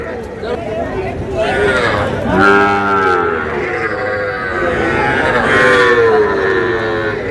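Sahiwal cattle at a farm in Cumilla lowing in long, loud, drawn-out moos, two or three calls close by, with people talking and murmuring throughout.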